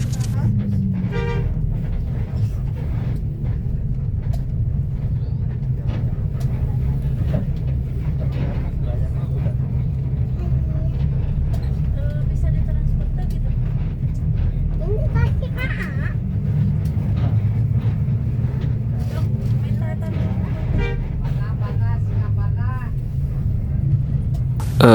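Bus terminal at Garut, Indonesia, with idling bus engines rumbling steadily, several short horn toots scattered throughout and a person talking over the traffic noise.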